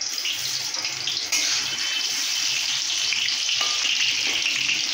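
Jackfruit pieces fry in plenty of hot oil, a loud, steady hiss and crackle that jumps a little louder after a second as more pieces drop in, running on with no talk.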